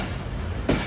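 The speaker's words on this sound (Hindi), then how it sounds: "यहाँ से ट्रेन अभी जो चल पड़ी है" Train pulling out of Rahim Yar Khan railway station on the Hazara Express in Pakistan, a steady rumbling rail noise throughout with a louder clank near the end, heard from on board.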